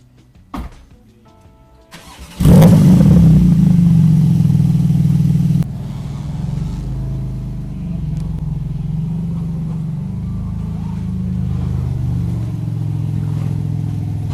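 A Porsche 991 GT2 RS starts and pulls away, its engine flaring into a loud, steady rev for a few seconds, then settling into a lower, sustained rumble as the car drives off.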